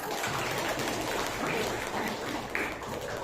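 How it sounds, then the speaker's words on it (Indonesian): Steady, dense clapping from a class of students fills the classroom, sustained and fairly loud throughout with no break. "Tepuk tangan untuk kita semua."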